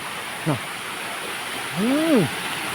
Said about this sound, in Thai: ลงไปอาบน้ำตก หรือว่าลงไปถ่ายน้ำตกนะครับพี่ซี